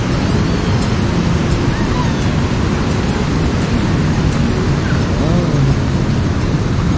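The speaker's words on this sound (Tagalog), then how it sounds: "Lakas ng alon guys, oh." Strong surf churns steadily against a rocky shore near a tidal pool, a loud continuous roar mixed with gusting wind buffeting the microphone.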